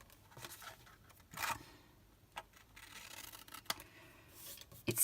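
A few short, quiet snips of scissors cutting card for a business card holder box, spaced apart with soft handling rustles between them, close but faint.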